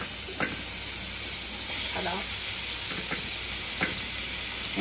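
Grated taro hits a hot pan over a lowered gas flame and sizzles steadily, a constant frying hiss with a few soft stirring scrapes on top.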